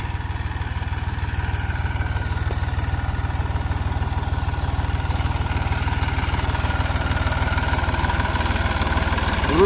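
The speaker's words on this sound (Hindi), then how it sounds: "आ रहा है ट्रैक्टर मेरी तरफ" A Massey Ferguson 245 tractor engine chugs in a steady, low rhythmic throb while cutting furrows with a laser leveller, continuous and gradually a little louder, with no voices.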